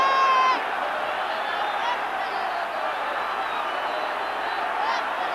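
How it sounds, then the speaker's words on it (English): A football crowd at St James's Park, Newcastle, in a 1982 match against Fulham, roars steadily throughout, a dense continuous din with a brief whistle-like tone at the start. "Crowd really behind them still."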